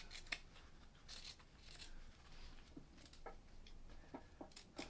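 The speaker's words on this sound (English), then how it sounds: "Give it a trim with your scissors." Scissors trimming fabric give faint, scattered sharp snips and soft rustles, close and quiet with no talk.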